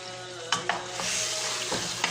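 Tomato paste frying in oil for Saudi kabsa, a soft continuous sizzle with a few sharp clicks of a spoon stirring against the pot, close and steady.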